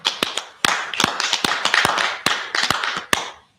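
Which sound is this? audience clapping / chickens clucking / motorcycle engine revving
audience clapping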